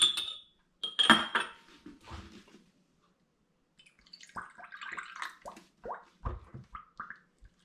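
Britvic orange cordial poured in small amounts into several glass bottles: short splashing trickles with light glassy clinks, separated by a brief quiet gap, close and with no talking.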